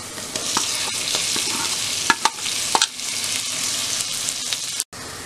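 Minced meat, about a quarter kilo, frying in a pan with garlic: a steady bright sizzle with scattered spatters and stirring knocks, close and fairly loud, with no talking.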